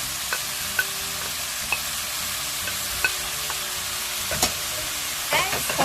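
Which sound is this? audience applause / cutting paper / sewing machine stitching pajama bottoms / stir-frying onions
stir-frying onions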